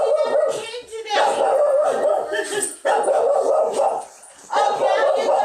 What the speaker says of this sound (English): Oh, now you're gonna bark.